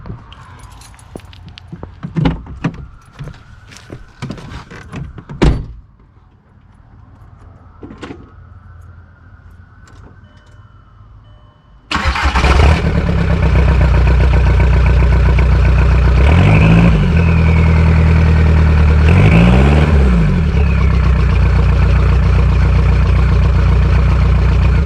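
A TDI diesel engine cranks and catches after a stretch of clicks and jangling keys, then settles into a loud, steady close-up idle with a couple of brief revs partway through.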